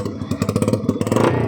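A Yamaha R15 V3 motorcycle with an Akrapovic exhaust revs loud and close, its engine note pulsing in rapid firing bursts that build toward a higher rev near the end.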